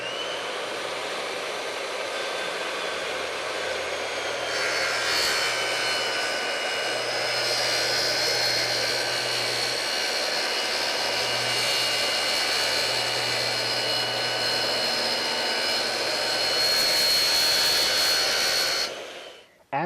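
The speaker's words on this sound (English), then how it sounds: "After you cut your acrylic with the circular saw, you'll be left with a rough cut edge like this." A circular saw cutting an acrylic sheet clamped along a straight edge, a loud, continuous high-pitched whine under steady motor roar for about fifteen seconds, then a wind-down, with no speech.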